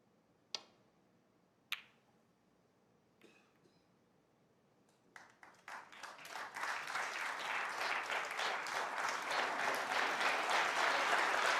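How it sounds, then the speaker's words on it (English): A few sharp isolated clicks of snooker balls, then an audience at a snooker tournament final breaks into sustained applause that swells and holds steady, loud and continuous. "a round of applause this"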